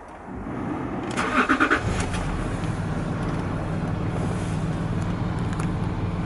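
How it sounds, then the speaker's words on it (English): A Land Rover Discovery 3 HSE engine cranks briefly and catches, then settles into a steady low idle heard from inside the cabin, with no talking. "I've got the key in my hand, so start the engine."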